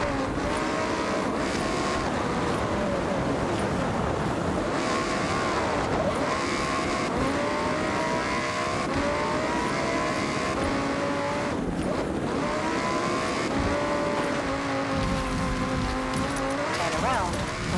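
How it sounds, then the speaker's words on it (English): Lamborghini Huracan Sterrato on all-terrain tyres racing down a snowy ski run in Forza Horizon, its engine droning loudly and continuously with rising and falling pitch sweeps and occasional tyre noise, with talking over it throughout. "I wanted to send you down the mountain in a Lambo"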